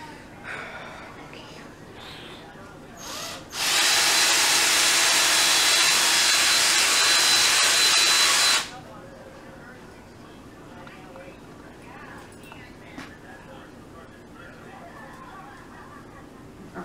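A power tool drills holes in a cosplay belt piece, giving a loud, steady whirring burst of about five seconds, with quiet room sound before and after.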